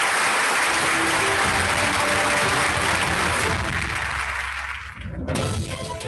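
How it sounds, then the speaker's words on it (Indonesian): Audience in an international company headquarters hall applauding after a speech, a loud, dense wash of clapping that fades briefly near the end before swelling again. "Mari kita berikan tepuk tangan yang meriah untuk kata sambutan yang sangat menginspirasi dari Mr. Lee Jinyan."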